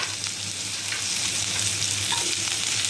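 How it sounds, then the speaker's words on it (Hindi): Oil sizzles and crackles steadily as onions fry in a pan, with occasional stirring scrapes, close and continuous. "और अच्छे से प्याज को भून लेना है"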